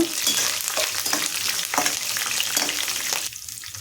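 Chana dal and green chillies frying in a pan, a loud, close sizzle broken by intermittent stirring scrapes.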